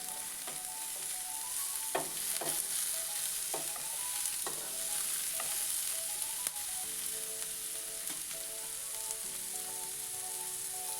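Chopped capsicum is stir-fried with spluttered mustard seeds in a pan, steady soft sizzling punctuated by repeated sharp spatula taps and scrapes against the metal.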